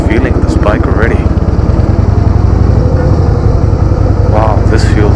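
A 2016 Harley-Davidson Softail Deluxe rumbles steadily as it pulls out of a parking lot in South San Francisco, its loud, low engine pulsing throughout while a rider talks over it.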